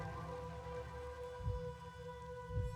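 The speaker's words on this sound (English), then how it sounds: "It's a gentle rain, protecting us." Steady soft rain falls in the Master Detective Archives: Rain Code video game, a continuous even patter with low rumbling swells near the middle and end.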